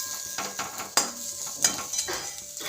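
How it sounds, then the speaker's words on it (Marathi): Green chillies sautéing in oil on a flat griddle, a light sizzle punctuated by sharp scrapes and taps of a spatula on the metal surface. "आणखी एक मिनिटभर आपण छान याला परतून घेऊया"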